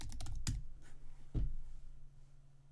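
Someone types a password on a computer keyboard: a few quiet, quick key clicks in a short cluster, then a lone later press, against a faint low hum.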